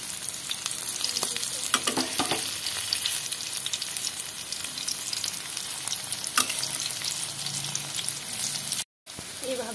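Stuffed fritters, flipped over in a pan, fry with a steady dense sizzle and occasional crackles and stirring clicks, close and continuous, cutting out briefly near the end.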